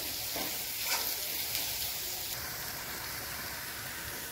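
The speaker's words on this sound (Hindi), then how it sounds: "प्याज के साथ हम ये मसालों को भूनने देंगे" Onion and spices frying in a pan, with a steady close sizzle and crackle and occasional stirring scrapes, continuous and alone.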